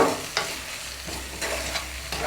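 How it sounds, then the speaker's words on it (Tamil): Masala with salt stirred in a hot pan for an egg pepper fry, a continuous close sizzle with a few scraping strokes of the spoon every half second or so, no voices. "உப்பு போட்டு ஒரு தடவை மிக்ஸ் பண்ணிக்கலாம்."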